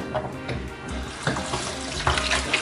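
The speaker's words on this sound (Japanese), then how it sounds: "流水でしっかりと洗剤を落としていきます。" Tap water runs steadily while detergent is rinsed out of a cloth mask by hand. The splashing flow is close and continuous and carries soft irregular sloshes, with no talking.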